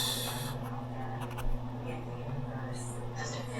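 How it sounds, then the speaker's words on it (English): A pencil draws on paper for a hand-drawn portrait, going over highlights. It makes a soft, continuous scratchy rasp with brief strokes, close up, alongside faint breathy voice sounds. "And then I can come back over this with the pencil."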